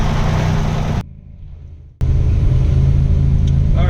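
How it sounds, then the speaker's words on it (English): Buick Grand National with a newly fitted large turbo on its first test drive, engine roaring loud and close with a steady drone, briefly dropping off for about a second before surging back. "here's the first test drive with this new turbo on"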